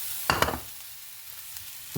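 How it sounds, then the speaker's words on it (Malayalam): Sliced tomato tipped into frying masala for an Angamaly-style pork roast: a quick burst of clatter and scraping as it lands, then a steady hissing sizzle that settles into a low, even fry. "ഇനി ഇതിനകത്തേക്ക് ഞാൻ സ്ലൈസ് ചെയ്ത് വെച്ചിരിക്കുന്ന ടൊമാറ്റോ ആഡ് ചെയ്ത് കൊടുക്കുകയാണ്"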